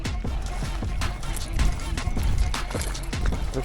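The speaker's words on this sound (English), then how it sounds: "They're freaking spraying shad all over my boat right now." Shad spraying and splashing at the surface around a fishing boat, with repeated bursts of splashing and water patter close by, mixed with boat and wind noise.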